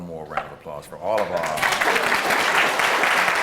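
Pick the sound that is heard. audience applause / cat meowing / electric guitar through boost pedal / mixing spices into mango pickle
audience applause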